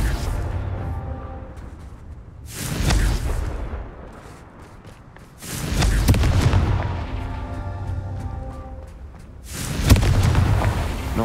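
Explosive spell blasts in a Hogwarts Legacy fight, three heavy booms at regular intervals, each swelling and rumbling off with crackling debris between.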